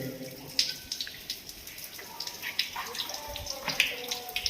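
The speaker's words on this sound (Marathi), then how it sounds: "पाणी पडतं इथं." Water falls and drips inside an old fort's horse stable, carved from a single rock, during the monsoon. Faint, scattered drips and soft splashes echo quietly against a low background murmur.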